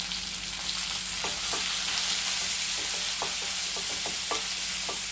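Ground green chilies frying in a pan with curry leaves and onions for a Tamil chutney, giving a steady low sizzle with intermittent scraping taps of a stirring spoon, close and without speech.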